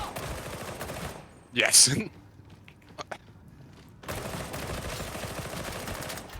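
A shotgun blast in a video game, a single loud close boom followed by a few faint clicks and thumps, with a brief spoken word and continuous game noise around it.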